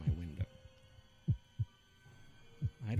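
A slow heartbeat sound effect thumps in deep, muffled beats, roughly paired and spaced about a second apart, over a faint low hum.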